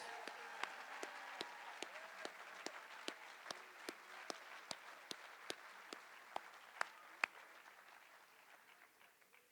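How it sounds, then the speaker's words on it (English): Applause for senior athletes who have signed letters of intent, honored at an ESPYs 2022 awards evening: a faint, moderate room of clapping with a few sharp, evenly spaced louder claps standing out, tapering off at the end. "let's give those guys a round of applause"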